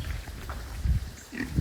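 Pigs feeding on a bare patch of ground in a field, giving short low grunts and snuffling noises close by, a few scattered bursts amid soft outdoor rustle.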